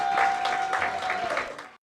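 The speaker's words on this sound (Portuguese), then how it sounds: "o magistrado foi aplaudido" Applause for judge Sérgio Moro in a special committee of Brazil's Chamber of Deputies, a short burst of dense clapping from a crowd, loud and close, ending abruptly.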